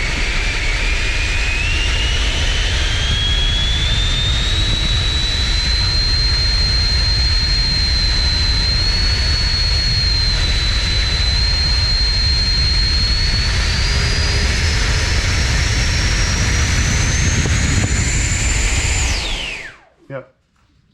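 An FMS F-18 Super Hornet RC model jet with an afterburner runs as a loud, steady turbine whine that slowly climbs in pitch for about nineteen seconds, then cuts out sharply over wind noise, with no talk.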